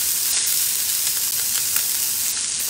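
Corvina fish fillet sears in a hot pan with a steady, loud, unbroken sizzle that holds at the same level throughout, with no talking over it.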